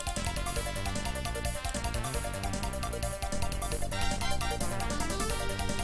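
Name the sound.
music played on AWE64 synthesizer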